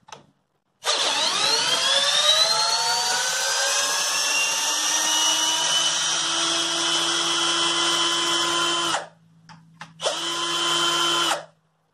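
A NITEO Tools 20V impact driver spins out a screw with a steady high whine that holds for several seconds, stops briefly, then resumes for a shorter burst, loud and close.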